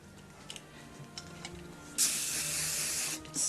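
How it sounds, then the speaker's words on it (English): Hairspray from an aerosol can hisses onto teased, styled hair in a long, loud burst, breaking off briefly near the end and then resuming, with faint rustling beforehand. "spray it."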